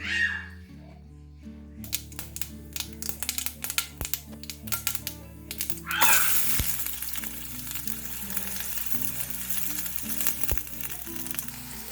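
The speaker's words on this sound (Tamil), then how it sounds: "ஃப்ரைக்கு வந்து வெங்காய மிளகாய் தாளிச்சு எடுத்துக்கலாம்." Onions and chillies tempering in hot oil for a rabbit gravy, crackling and popping sharply at first, then settling into a loud continuous sizzle with a steady background hum, stirring clicks heard throughout.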